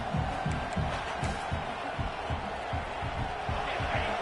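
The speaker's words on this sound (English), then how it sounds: "Listen to this crowd just shaking the girders of this place, trying to help their defense." A packed football stadium crowd roars for its defense during an OU vs LSU game, a dense, sustained wall of cheering with rhythmic low pulses like stomping or chanting running steadily throughout.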